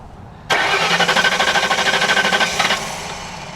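A 1992 Ford Crown Victoria engine, flood-damaged, cranks with a fast rhythmic starter chug for about two seconds, loud and close, then the cranking stops and only a fading hum remains; no one speaks.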